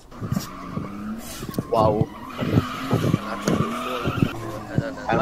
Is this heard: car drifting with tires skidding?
yes